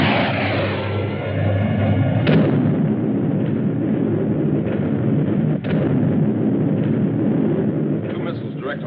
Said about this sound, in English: Start the bombardment.